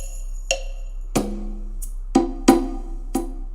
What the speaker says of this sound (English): It's got like a beatbox as well.